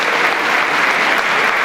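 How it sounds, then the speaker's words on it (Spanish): An audience at a political talk and debate in Argentina applauds loudly and steadily, a dense, continuous wash of clapping with no voices heard. "Una vez más el aplauso para Luis Beto Brandoni."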